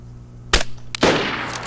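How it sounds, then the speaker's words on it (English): Gunshots in the survival game DayZ: two sharp, loud reports about half a second apart, each with a ringing decay trailing off, no voices. "I heard the shots and I figured."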